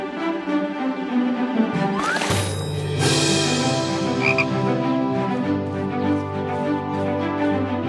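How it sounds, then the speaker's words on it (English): A frog croaks steadily in a cartoon scene, a continuous rasping, pulsing croak with strong harmonics that holds loud and close throughout, alone with no talk. "Look, kids, a frog."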